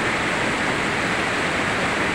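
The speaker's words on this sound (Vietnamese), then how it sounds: "Đây là thác quê hương của mình ở Đắk Rót" The waterfall at Đắk Rót in Vietnam roars in a constant, broadband rush, close and unbroken throughout.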